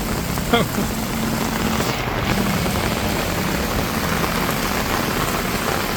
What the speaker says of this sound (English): As you can see, the rain has started. Yeah, quite a heavy downpour.